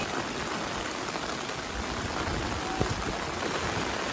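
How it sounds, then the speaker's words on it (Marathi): Steady, dense rain pours down heavily and continuously at Sondai Fort near Karjat, a broad hissing wash with no voices and no letup. "इथे ना पाऊस भरपूर मोठ्या प्रमाणामध्ये चालू आहे"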